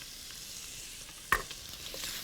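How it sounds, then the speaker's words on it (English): Pieces of duck sauté in their own rendered fat with garlic and lemongrass, giving a faint, steady sizzle in a hot pan, broken once by a short utensil clink. "See the duck starting to saute in its own fat."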